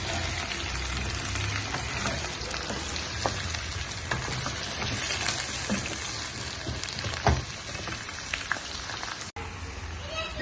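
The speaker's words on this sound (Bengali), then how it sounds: "আমি মূলাগুলো ভেজে নিব" Radishes and potatoes fry in a pan for a chicken curry, a loud, steady crackling sizzle throughout with occasional stirring scrapes close by.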